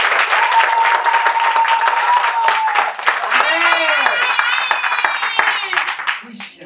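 An audience at a Tanzanian election-season youth gathering breaks into sustained applause and clapping, loud and continuous throughout, with voices and cheers mixed into the crowd.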